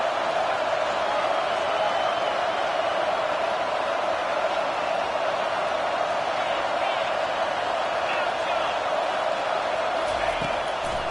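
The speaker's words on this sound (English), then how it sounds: "Big 3rd down as the crowd gets behind this defense." Stadium crowd in a Madden football video game, a constant dense roar of cheering behind a third-down defensive stand, steady and full throughout with commentary voice over it.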